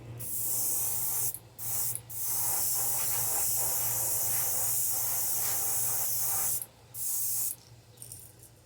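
Airbrush spraying paint onto fishing baits in long steady hissing bursts broken by brief pauses, close and continuous with no talking.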